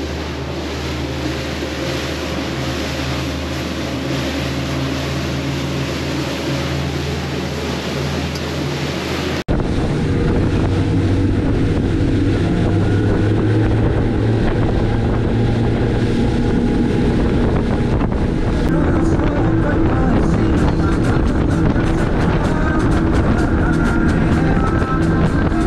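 A Sea Hunt boat runs across open water near an Islamorada sandbar with a steady motor drone, beneath heavy wind buffeting the microphone and the rush of water and spray. The noise runs on without pause and grows louder partway through.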